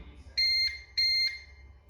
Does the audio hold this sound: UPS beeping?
yes